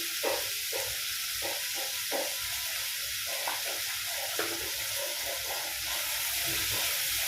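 Ground coriander, turmeric and chili powder sizzle as they are sautéed in a pan for a semolina dish, a steady close hiss with faint scraping stir strokes throughout.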